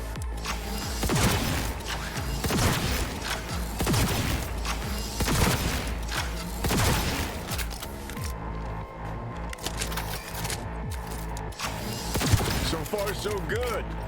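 Gunfire from enemies in Cyberpunk 2077, bursts of rapid shots with sharp cracks repeating through a busy, loud game scene.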